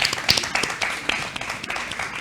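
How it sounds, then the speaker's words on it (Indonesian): An audience at a book launch claps steadily, a dense patter of hands at close range lasting a couple of seconds with no voices over it. "Tepuk tangan."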